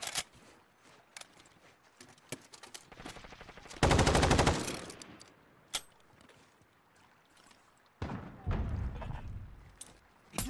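PKP Pecheneg machine gun fire in Call of Duty Modern Warfare, with two long sustained bursts of rapid automatic shots separated by scattered single gunshots and thuds of game action.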